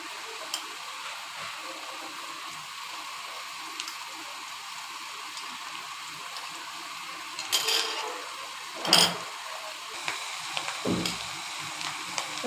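Onion paste frying in a pan for a duck egg curry with coconut milk, a faint steady sizzle in the background, broken by a couple of sharp utensil clinks and knocks toward the end.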